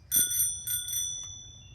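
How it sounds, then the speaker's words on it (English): A bicycle bell rings in three quick bright dings, followed by a fainter fourth, close and clear with nothing else around it. "your bike should have a bell"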